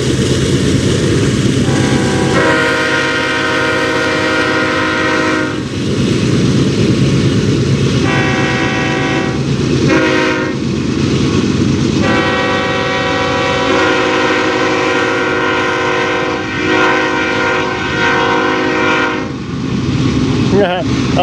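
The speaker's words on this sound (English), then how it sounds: "Oh, there's another train" A loud train rumbles steadily past up close while its horn blows in long repeated blasts that echo and reverberate.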